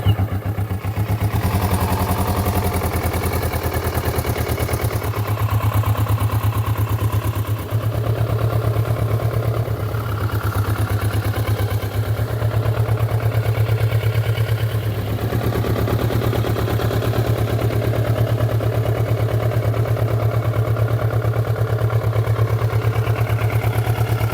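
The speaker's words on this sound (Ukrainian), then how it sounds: "Двигун працює без жодних нарікань" A Kawasaki Ninja 400 motorcycle engine idles steadily throughout, a low constant rumble with no revving or speech.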